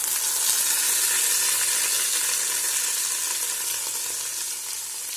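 Raw ground paste of tomato, onion, dried red chili and garlic sizzles steadily in hot oil, a bright, dense frying hiss that holds close and loud before easing slightly toward the end, with no talking.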